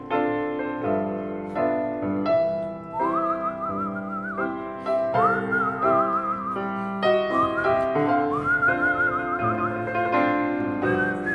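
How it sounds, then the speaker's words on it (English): A crowd whistles a Christmas song along with piano accompaniment in a live concert room, the melody rising and holding in several sustained phrases across the whole stretch. "Now just whistle along to them."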